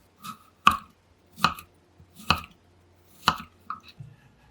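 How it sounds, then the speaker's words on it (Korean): Kabocha squash cut into bite-size pieces, four sharp knife chops striking a board at an even rhythm, close and clear, followed by a few softer taps, with no talk. "먹기 좋은 크기로 썰어주시고요"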